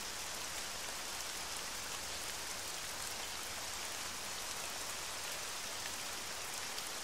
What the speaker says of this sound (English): It seems to be raining.